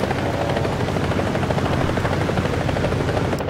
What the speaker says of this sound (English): I'll use my helicopter.